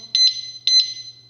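Two pairs of sharp, high electronic beeps from a Winx motorcycle wheel disc lock alarm sound close by, each pair quick and evenly spaced, with a faint low hum underneath.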